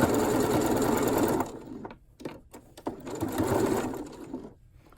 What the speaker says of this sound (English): And I'm just sewing right over the edge of the fabric.